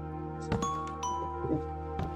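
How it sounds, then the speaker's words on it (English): A doorbell in Minecraft chimes several times in a sequence of bright, ringing tones over a steady background of game music, fairly quiet and with no talking. "A doorbell!"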